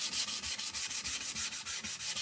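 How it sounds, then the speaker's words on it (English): Sandpaper is rubbed over a blue-painted surface during a crafting session in steady back-and-forth strokes, about eight per second, close and moderately loud, with no voices. "I'm going to get a new little sandpaper here. And let's sand our blue."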